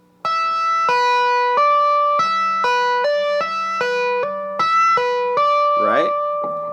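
Blues tapping on electric guitar: a run of clear, sustained notes changes pitch every half second or so as taps, pull-offs and hammer-ons follow each other, played alone and close with no talking.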